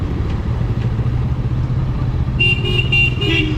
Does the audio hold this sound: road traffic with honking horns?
yes